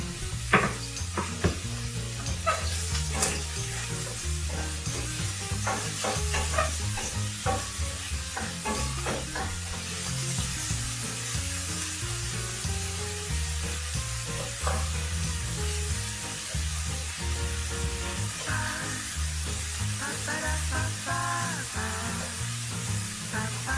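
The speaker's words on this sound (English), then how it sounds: "this process sometimes is called sweating the onions" Onions and potatoes, with mushrooms, sauté in a pan for a potato veggie hash, giving a steady soft sizzle with occasional stirring under continuous background music.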